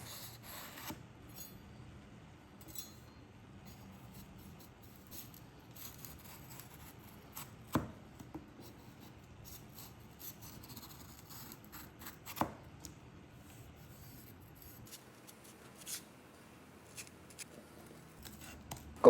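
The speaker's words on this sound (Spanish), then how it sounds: "Después lo ponemos de pie y lo empezamos a cortar de esta manera." Knife slicing an ají chili pepper stood upright for filleting, soft scraping cuts with a few sharper taps on the board, quiet and close.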